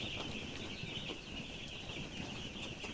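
Four-day-old chicken chicks peep in a steady, dense chorus inside their brooding pen. The sound is continuous and fairly faint, with a constant hiss underneath.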